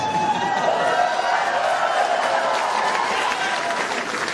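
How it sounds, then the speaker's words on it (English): A large, rowdy crowd of over 1,600 at a Marco Rubio presidential campaign rally in Minneapolis fills an indoor hall with loud, sustained cheering, whooping and applause, dense and continuous throughout. "This is a rowdy crowd, man."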